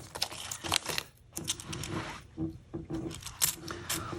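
A paper coin roll wrapper holding half dollars is torn open close up, with sharp crinkles and rips in uneven bursts over a steady background hum.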